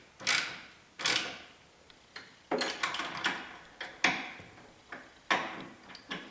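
A 1/2 inch wrench clicks and ratchets against bolts while a custom cab is assembled on a 2004 Polaris Ranger 6x6, giving a series of sharp, separate metallic clacks in uneven rhythm, close and fairly quiet, with no talking.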